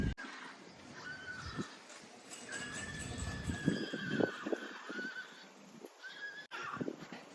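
A high-value horse, bought and readied to be led away, neighs repeatedly in drawn-out whinnies with some hoof clip-clop, fairly close amid outdoor background noise.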